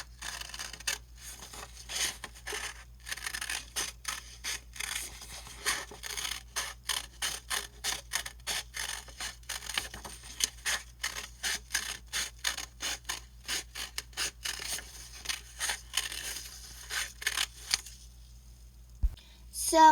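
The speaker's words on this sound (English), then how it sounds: "So you're just going to cut all around the circle." Scissors snip paper around a circular outline in a quiet room, producing a rapid, steady run of crisp, close cutting clicks that continue almost without pause before stopping near the end.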